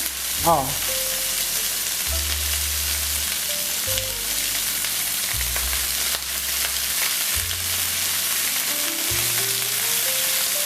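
A kilo of beef cubes for mechado browns in a pan, giving a loud, continuous sizzle and spatter over background music.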